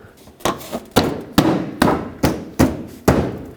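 Radiator fan assembly on a 2007-2009 Saturn Aura being pressed and clipped into place, seven sharp plastic snaps and thumps in a regular rhythm, close and fairly loud, with no talking.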